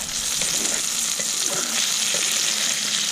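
Potatoes, carrots, peppers and onions fry in a pan outdoors in the cold, giving a loud, even, continuous sizzle with faint stirring underneath and no voices.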